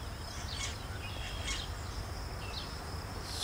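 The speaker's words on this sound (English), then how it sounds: "I could just sit here all day and watch these bees flying" Honey bees flying around a hive outdoors, giving a steady faint buzzing drone, with scattered high bird chirps over the top.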